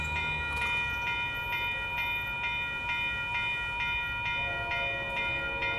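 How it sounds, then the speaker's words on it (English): An Amtrak Capitol Corridor train led by an F59PHI locomotive passes on 98th Avenue in Oakland, California, a steady rumble with a continuous horn or bell-like tone and rhythmic clicks, no talk. "Here comes Amtrak Capital Corridor train 529."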